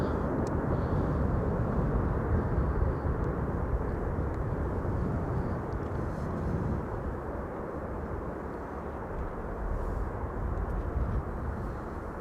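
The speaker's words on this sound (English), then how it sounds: "Looks like an EasyJet A320neo is going to follow next after this." An EasyJet Airbus A320neo arriving at Amsterdam Schiphol gives a continuous, fairly loud engine rumble that stays even throughout, with no talking.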